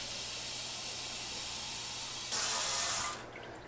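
Tap water runs steadily into a sink while tortilla dough is being mixed at home, a continuous hiss that surges louder near the end before cutting off abruptly, with no one talking.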